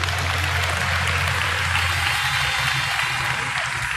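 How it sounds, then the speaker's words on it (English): Applause from a large audience at a party federal congress, a dense wash of clapping held steady for about four seconds, with a low hum underneath and a little murmur of voices mixed in. "let's give yesterday's winners one more round of applause"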